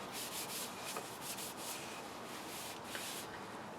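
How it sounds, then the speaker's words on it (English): Finishing oil being rubbed into an axe handle, heard as a continuous close, soft rubbing with a faint swishing rhythm throughout. "make sure you get this oil in all the little nooks and crannies. You need to really kind of work it in there"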